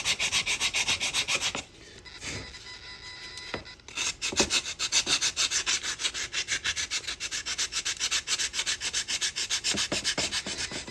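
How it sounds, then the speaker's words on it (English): Black walnut wood for a custom RC crawler body is hand sanded with sandpaper in quick, even back-and-forth strokes, loud and close, with a brief lighter pause before the rhythmic rasping resumes. "Just gonna sand like this."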